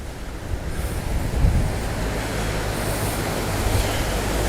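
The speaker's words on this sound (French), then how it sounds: "Sur ma droite, le ruisseau de Fontparazol qui se jette dans l'Orbiel avec un débit plus important que d'habitude" The Fontparazol stream pours into the Orbiel river near Conques-sur-Orbiel, running higher than usual. It makes a steady, close, broadband rush of flowing water, with no voices.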